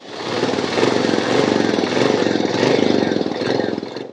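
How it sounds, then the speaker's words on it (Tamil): A Royal Enfield motorcycle engine idling just after an oil change and warm-up, a steady close-up thumping chug with fast, even pulses and no talk. "இப்போ ஆயில் சேஞ்ச் பண்ணிவிட்டு இன்ஜினை கொஞ்சம் வார்ம் அப் பண்ணிவிட்டு இப்போ வந்து ஐடியலில் வச்சுருக்கோம்"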